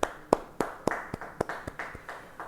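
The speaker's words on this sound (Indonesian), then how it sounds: "Yang percaya beri tepuk tangan bagi dia." A church congregation claps in a steady, slightly uneven rhythm during a Christmas service, about a dozen sharp claps in a row, moderately loud in a reverberant room.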